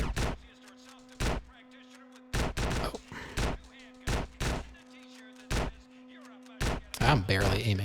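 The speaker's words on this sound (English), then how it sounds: "I'm barely aiming, and this shotgun's doing its job." Shotgun blasts ring out in Grand Theft Auto: San Andreas: about ten loud, sharp shots at irregular intervals over a steady low hum, with a voice near the end.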